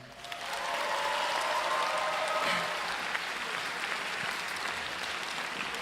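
An audience at a high school graduation ceremony claps for a teacher, a steady wash of applause that swells quickly and holds at a moderate distance throughout.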